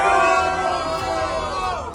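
Large crowd of hostage families cheering and shouting together, a loud, sustained roar of many voices that holds steady for a couple of seconds before easing slightly.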